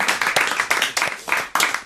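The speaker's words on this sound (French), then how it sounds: "On applaudit Serge Liado." A French television studio audience breaks into brief, loud applause with dense, quick clapping that carries on steadily throughout.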